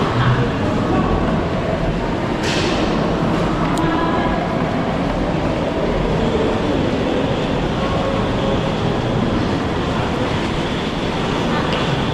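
A Laos-China high-speed train to Luang Prabang rumbles steadily throughout, a continuous close rolling roar of railcars with faint rattling, and no clear voices over it.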